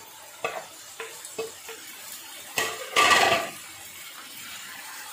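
Tomatoes, onion and green chillies tipped into a pan for a dry fish (shutki) dish, giving a few soft clatters and then a louder burst of sizzle that fades, with no talk.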